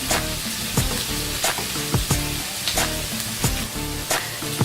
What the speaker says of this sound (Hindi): याद रहे प्याज को भी आपने तेज आंच पे ब्राउन करना है,